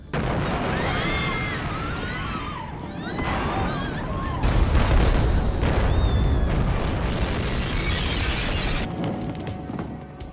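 A bomb blows up at a mall in the action film Police Story 2, with a deep booming roar and crashing debris that swell midway and keep rumbling loudly, amid busy crowd and movie sounds.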